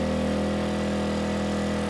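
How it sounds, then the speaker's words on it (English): Erayak 4500P generator engine running steadily under a 3000 watt load, a loud, continuous droning hum with a strong low tone and no pauses. "You can tell the engine, it is working quite a bit harder, but it is doing it without issue."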